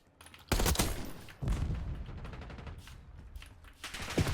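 Bursts of gunfire in a first-person shooter game, with two sharp loud volleys followed by rattling automatic fire and a final shot near the end.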